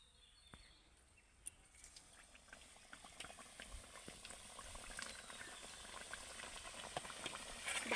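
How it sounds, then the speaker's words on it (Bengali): Stuffed pithas drop into hot oil in a wok, a bubbling sizzle that builds steadily louder over several seconds, with scattered pops and crackles, close by and with no voices. "তেল গরম হয়ে গেছে এবার এগুলোকে ভাজার জন্য আমি কড়াইতে দিয়ে দেবো"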